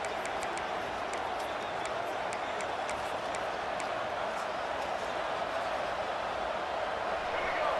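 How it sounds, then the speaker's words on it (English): A large football stadium crowd roars in a steady, loud wash of noise at a college game between Virginia Tech and Notre Dame, with a commentator's voice running over it. "This crowd trying to make life miserable for this offense."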